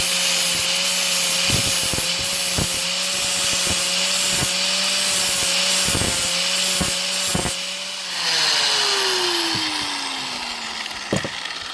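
Metal crampon teeth ground on a grinder to sharpen them: a loud, steady abrasive whine with rhythmic pulses of contact that ends as the wheel spins down with a falling tone.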